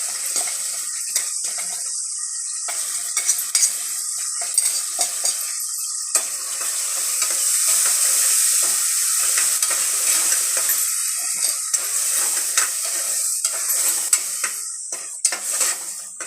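Onions and masala fry in a pan with a bright continuous sizzle, punctuated by frequent scraping and tapping of a utensil as the mixture is stirred, close up and steady.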